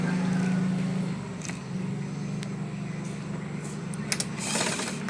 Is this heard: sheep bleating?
no